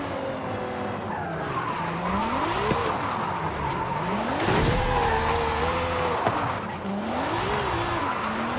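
A Lamborghini drifts in Forza Horizon 5, its engine rising and falling through revs while the tires squeal almost continuously, loud and close, with a few sharp knocks along the way.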